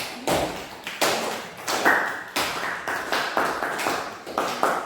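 Classroom applause for a student group, clapping in repeated bursts, moderately loud and close, with some taps standing out.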